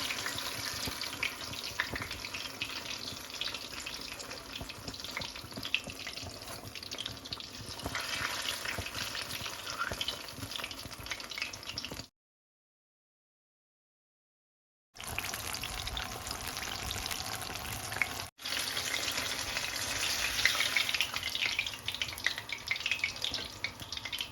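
Banana fritters (pazham pori) made from ripe plantain frying in hot oil, a steady close sizzle and bubbling that runs continuously, with a brief pause of silence in the middle before it resumes.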